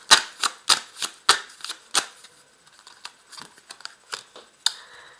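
Tarot cards are shuffled and drawn by hand, a quick series of sharp, papery riffles and snaps, close and fairly soft, with the rhythm loosening into lighter slides and taps toward the end.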